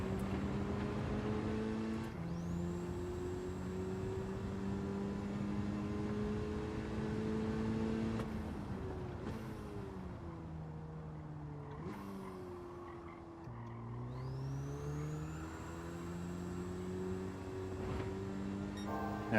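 A race car in Gran Turismo 7 accelerating through the gears, its engine note climbing steadily with a whining high tone, dropping at shifts and braking around the middle, then pulling hard again; loud and close with no talk.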